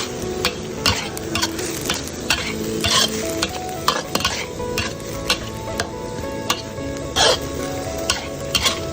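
Thai basil beef stir-fry being stirred in a pan, loud close sizzling with frequent sharp spatula scrapes and clacks in an uneven rhythm, no talking.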